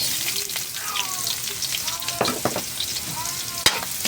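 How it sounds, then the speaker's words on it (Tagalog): Garlic sautéing in a hot pan for Filipino dinuguan, a steady close sizzle and crackle with occasional stirring scrapes and a sharp clink near the end, a faint voice murmuring underneath. "Tapos gigisahin natin bawang."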